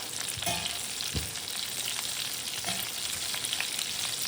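Stuffed brinjals (ennai kathirikkai) frying in oil in an open pan, with a steady close sizzle and a few soft scraping stirs throughout and no talking.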